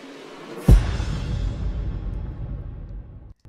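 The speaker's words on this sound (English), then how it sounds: "I've also got this like orchestral sounding" A sharp low impact lands, and a broad orchestral sweep rumbles and rings behind it, slowly fading over a few seconds before a brief dropout.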